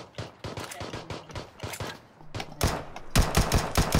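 Rapid bursts of video game gunfire, sharp repeated shots crackling in quick succession and growing louder toward the end, with no talk over them.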